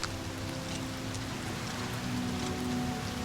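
Steady rain falling in the video game Oblivion Remastered, a dense, even patter and hiss that fills the whole stretch without a break, alone and fairly close.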